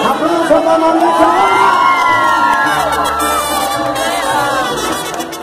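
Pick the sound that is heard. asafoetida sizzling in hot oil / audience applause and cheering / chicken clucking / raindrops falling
audience applause and cheering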